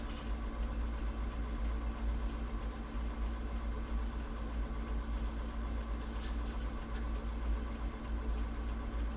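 A car engine hums steadily while driving down a steep sand dune at Moses Lake, a low continuous drone with a muffled rumble and no clear changes in pace, fairly quiet and heard without talk.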